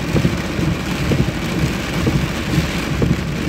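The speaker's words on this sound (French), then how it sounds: "je pense que l'orage après va se défaire en arrivant sur le Vercors, ça va casser" A thunderstorm approaching the Vercors in France brings steady, loud rain with a deep rumble of thunder rolling underneath. The sound is close and continuous, and no voices can be heard.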